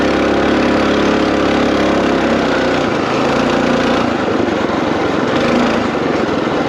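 A cheap, crude trailbike engine runs loud and close, a steady droning buzz that holds a constant rough note throughout, with no talking.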